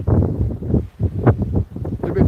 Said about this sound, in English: apart from sounding windy at the moment